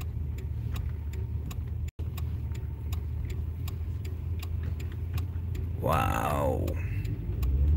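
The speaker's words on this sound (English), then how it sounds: "I'll let these trucks pass real quick so I don't block them." Trucks passing on a rough road, a steady rumbling engine drone with rhythmic ticking and one louder whooshing pass near the end, and a brief spoken exclamation.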